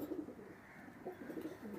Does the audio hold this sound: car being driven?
no